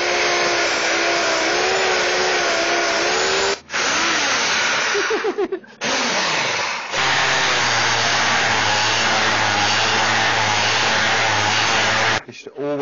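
A power sander whirs loudly against rough wood being smoothed before fiberglassing, running in long sustained bursts with short stops and pitch shifts as pressure changes, and a voice speaks briefly between runs.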